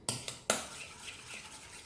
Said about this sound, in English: just mix it by hand